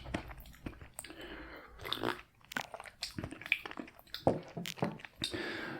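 Crunchy graham crackers are bitten and chewed close to the microphone, with repeated crisp crunches and softer mastication in an uneven rhythm, loud and intimate.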